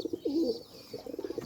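Pigeons coo close by in a short burst, one rolling call followed by a quick run of softer repeated coos, with no talk over them.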